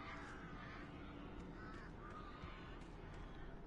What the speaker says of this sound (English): Those birds don't sound happy.